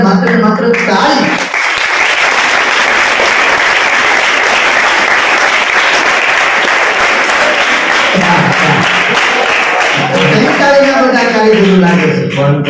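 Audience applause at a folk dayro performance held at an English-medium school in Nathej, Una, loud, dense and sustained clapping from a large crowd for the full stretch, with voices briefly audible at the start and end.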